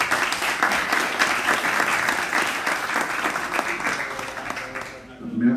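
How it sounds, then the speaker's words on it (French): A convention audience in Geneva claps in a dense, sustained round of applause that fades toward the end, with faint voices mixed in. "Sous vos applaudissements, s'il vous plaît."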